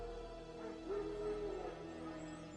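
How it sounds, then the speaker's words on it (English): Wild dogs in The Witcher 3 yip and whimper with soft bark-like calls, fairly faint and distant over a steady low game ambience, swelling briefly in the middle before fading. "No. Wild dogs. Yes. More dangerous than wolves."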